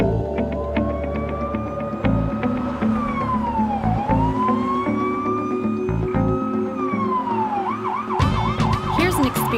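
Police car siren during a traffic stop for speeding, a loud wailing tone sweeping up and down, then switching to a rapid yelping pattern near the end over engine and road noise.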